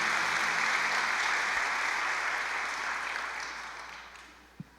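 A church congregation applauds in a sustained, dense clapping that slowly fades toward the end, with a single sharp knock near the close.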